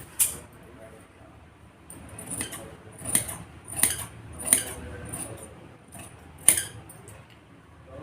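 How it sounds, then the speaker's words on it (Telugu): Scissors snipping through fabric while cutting a shape belt in tailoring, a string of sharp close metallic clicks at irregular intervals over a quiet background. "ఇప్పుడు ఎలా కట్ చేస్తానో చూడండి"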